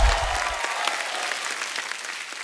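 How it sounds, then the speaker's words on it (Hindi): Studio audience applauding on a Hindi TV comedy show, a dense wash of clapping that stays steady and fairly loud for the whole stretch with no talking over it. "एक बार जोरदार तालियां हो जाए."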